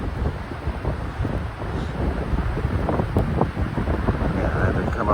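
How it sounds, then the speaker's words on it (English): Gusty wind in the snow rumbles across the microphone in a continuous low roar, with faint intermittent sounds beneath it. "Hopefully you can hear me over this wind."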